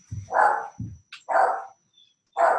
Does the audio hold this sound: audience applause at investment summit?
no